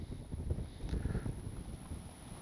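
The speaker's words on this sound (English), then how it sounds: "It's very, very windy." Strong wind buffets the microphone in steady gusty rumbles at an RC airplane flying field, with no voices.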